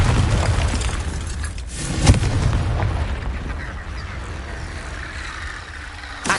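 A loud, booming explosive blast from the Confringo spell in the Hogwarts Legacy video game. It bursts over continuous dense game noise and then trails off into rumbling.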